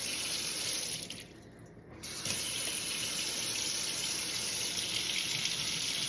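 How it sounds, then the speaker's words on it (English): Hot tap water runs from a household faucet in a strong, steady gush, briefly dropping as the flow changes before resuming at full force, with no voices present. "And then fill it with the tap water"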